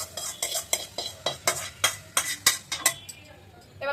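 A spice tempering goes into a pot of lentil dal and is stirred in with about a dozen quick, rhythmic scraping strokes over a soft sizzle, then the stirring stops.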